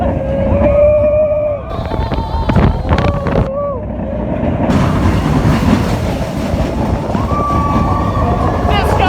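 The Expedition Everest roller coaster at Disney's Animal Kingdom roars along its track with loud, continuous rumbling and rattling clatter, close up, while riders' voices rise over the noise.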